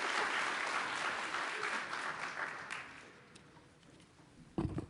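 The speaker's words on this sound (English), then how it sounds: "let's give them a big round of applause and as a thank you for their wonderful presentations" An audience claps for presenters at a talk on managing respiratory infections, the applause fairly faint and fading over a few seconds before a closer bump at the end.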